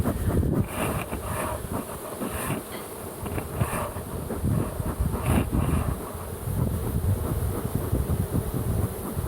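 Honeybees drone around an open hive being cleared with smoke, a dense steady buzz of many insects up close, mixed with gusty wind rumbling against the microphone throughout.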